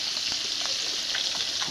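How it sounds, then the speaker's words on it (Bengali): Fish frying in a pan at home alongside rice cooking, giving a steady close hiss of sizzling oil with a few soft clicks and scrapes throughout. "বসিয়ে দিলাম মাছ ভাজা"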